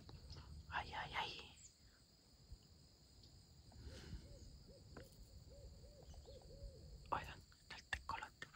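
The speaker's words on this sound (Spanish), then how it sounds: "el tecolote por ahí." An owl hoots in a run of soft, evenly spaced calls at dusk, with crickets chirping steadily, rustling and a few brief noises around it.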